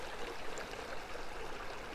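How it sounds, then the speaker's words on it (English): A small waterfall in a state forest rushes steadily, a faint broadband wash of falling water with no voices over it. "But there's the waterfall."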